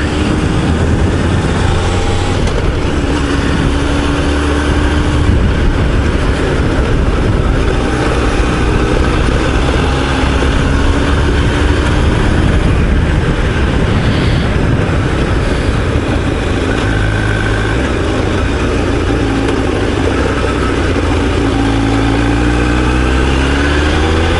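A steady motorcycle engine drone runs throughout with constant wind rush, loud and close, while riding along Wanganui River Road in New Zealand, the pitch shifting slightly as the ride continues.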